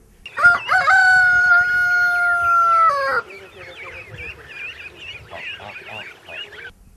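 A rooster lets out one long, loud crow nearby, followed by chickens clucking and cackling in the background.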